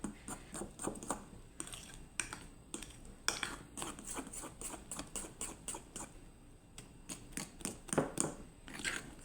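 Banana bread batter being mixed by hand in a bowl, quick irregular scraping and tapping strokes close up, continuous for several seconds with no talking.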